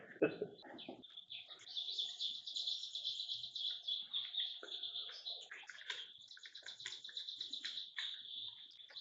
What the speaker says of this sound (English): Why is there still birds?